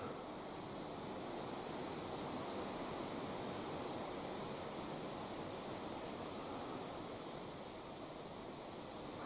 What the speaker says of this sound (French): le vent, il souffle tout le temps